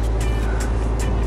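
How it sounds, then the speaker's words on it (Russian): A semi-trailer truck passes close by on a road, giving a loud, steady engine rumble and broad road roar that fills the whole moment. "О, фура."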